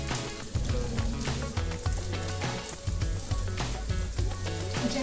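Ghee and red chilli powder sizzle loudly in a pan, a dense, continuous crackling hiss like heavy rain, close and unbroken for several seconds.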